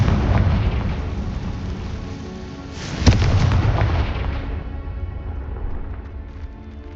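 A Confringo fire spell blasts in the Hogwarts Legacy video game, a loud booming burst that peaks sharply in the middle, set over a steady roar of game sound that slowly fades, with no speech.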